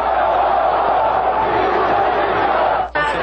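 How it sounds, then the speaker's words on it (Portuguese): Internacional supporters protesting in the Beira-Rio stadium after a 0-1 home loss to Coritiba in the 2002 Brasileirão, a loud sustained roar of crowd voices chanting and jeering, with a brief dip near the end. "Enquanto Lima comemora, a torcida do Internacional protesta."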